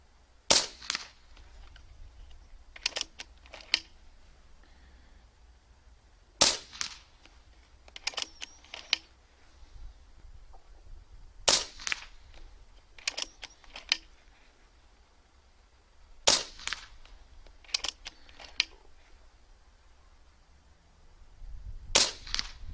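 A Hatsan Factor RC .22 (5.5 mm) PCP air rifle fires pellets in sharp, loud cracks, each followed by quick metallic clicks of cycling the action. Several shots come at intervals of a few seconds, with no talk between them.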